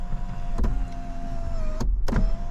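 Power sunroof sliding on a 2023 Subaru Premium 2.5 in Ice Silver Metallic, a close steady electric motor whine lasting about two seconds, with faint clicks at the start and as it stops.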